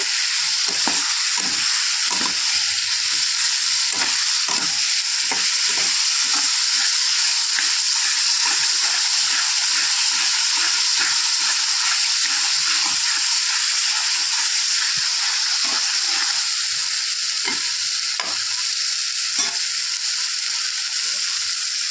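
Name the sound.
mushrooms frying in spice paste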